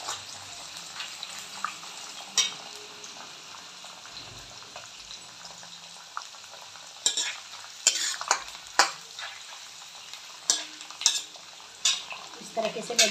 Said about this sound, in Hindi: थोड़े हल्की आँच में ही भूनने पड़ते हैं ये